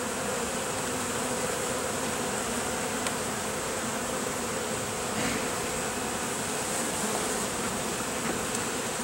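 Dense, continuous drone of many honey bees buzzing around a hive moved a week earlier, loud and close throughout, with no voices.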